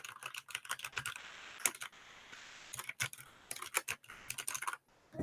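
Typing on an ASUS ROG Strix Scope RX mechanical keyboard, close and alone: bursts of sharp key clicks in quick irregular runs, separated by short pauses.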